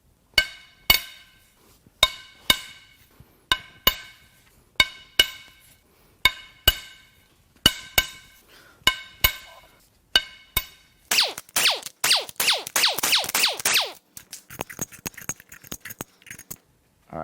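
Repeated sharp metallic clinks and taps of tools on head bolts being removed from a 2012 Ford F-150 3.5L EcoBoost V6 engine, in a steady rhythm of close strikes, followed by a burst of rapid ratcheting and lighter clatter.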